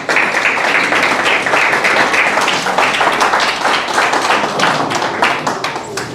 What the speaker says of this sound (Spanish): Dale un fuerte aplauso a esta palabra.